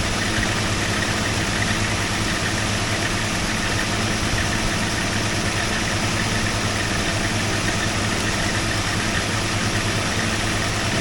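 A Chevy 283 V8 engine idles steadily and loudly from start to finish, a dense continuous rumble with an even throb and no voices over it.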